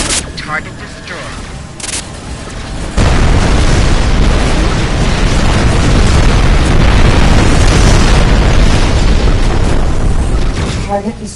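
Destroyed ships exploding in the space combat game Rebel Galaxy on PS4, a loud sustained roar of blasts and booming bursts that fills the scene after a short stretch with a voice talking.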